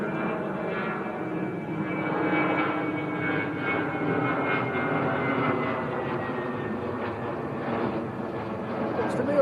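A British Airways airliner going around at Manchester Airport, its engines roaring steadily and loudly overhead for the whole stretch, with a faint voice now and then beneath the noise.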